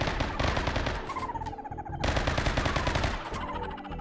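Colonists in RimWorld fire on plant creatures in dense, rapid bursts of gunfire, a near-continuous rattle of overlapping shots with short gaps, loud and without talk.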